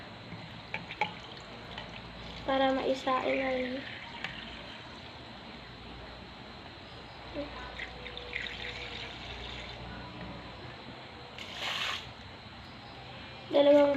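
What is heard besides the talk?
pouring water into rice for cooking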